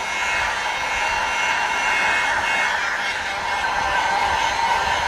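A heat gun blows hot air onto motorcycle plastics while they are still mounted on the bike, a loud, steady, close whooshing roar that runs unbroken with no talk.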